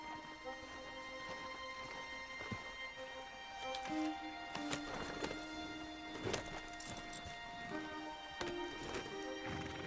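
Horse hooves clip-clop steadily in the Red Dead Redemption video game, a quiet, evenly paced walk with sharp individual hoof strikes and no talking.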